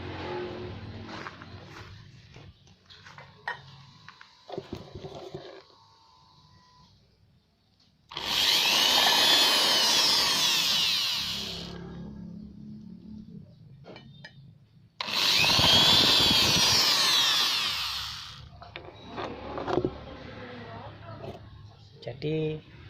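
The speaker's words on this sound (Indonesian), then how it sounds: "Kita coba ya dalam proses pengeboran bagaimana jika kita tidak memakai" A power drill bores into material without a center punch, in two loud sustained grinding bursts of about four seconds each, separated by a short pause. Quieter stretches of talking and handling come before and after the bursts.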